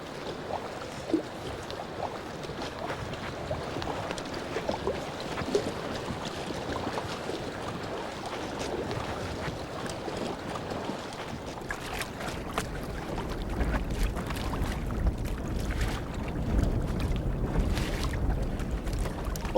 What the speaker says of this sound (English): that wind's really coming strong off that right side. Yeah, it's gusting an awful lot